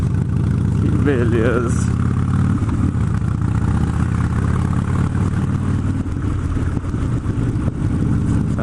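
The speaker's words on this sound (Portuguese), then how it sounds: "Andando de Dyna FXD" A 2008 Harley-Davidson Dyna FXD motorcycle engine while riding, a loud, steady, deep rumble with a brief rise in revs early on, while someone speaks briefly over it.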